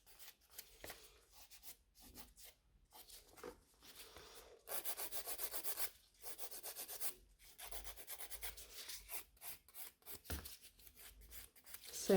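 Natural nails scratched with a nail file during a fiber gel extension on forms, heard as steady rasping strokes in bursts with short pauses, close and moderately loud, no talking.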